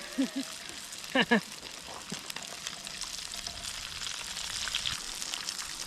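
Bullfrog legs deep frying in hot oil give off a steady, close sizzle and bubbling throughout, with a few faint vocal sounds early on.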